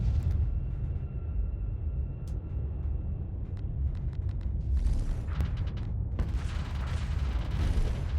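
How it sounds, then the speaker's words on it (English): Missile barrage explosions in a video game: a steady low rumble with scattered sharp booms, building into dense, crackling blasts toward the end. "Just deploy the missile barrage."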